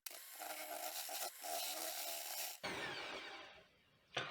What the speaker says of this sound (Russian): Теперь смешиваем при помощи миксера.